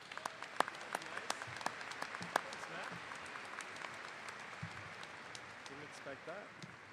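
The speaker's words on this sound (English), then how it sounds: "Can you join me in a round of applause?" Audience applause at a high school graduation ceremony in Madison, a dense patter of clapping that fades out over several seconds, with a voice speaking briefly near the end.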